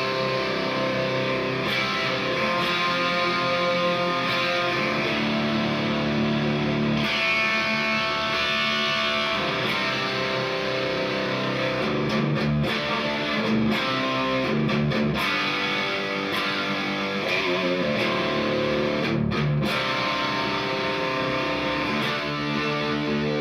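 A distorted 2021 Gibson Les Paul Classic electric guitar plays continuously, loud and full through a Marshall Silver Jubilee amplifier, with sustained chords and some sharp strummed accents.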